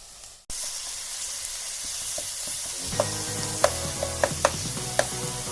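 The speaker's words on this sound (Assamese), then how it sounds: "পিঁয়াজখিনি অকণমান কালাৰ এটা অহালৈকে মই ভাজি ল'ম। এতিয়া মই ইয়াতে দি দিম আদা নহৰুখিনি।" Onions, ginger and garlic fry in hot oil in a wok for an Assamese pork dish, giving a loud, steady sizzle that starts abruptly after a brief hush, with occasional sharp clinks of stirring.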